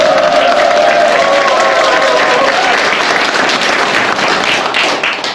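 Loud, sustained applause from a crowd at a political policy agreement ceremony, thick clapping with a little cheering mixed in, with a faint voice underneath early on.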